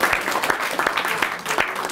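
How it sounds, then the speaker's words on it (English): A hotel audience in London applauds steadily at a business speaking event: dense, continuous clapping with sharp individual claps and a faint voice or two underneath for the whole two seconds. "One more round of applause for Van."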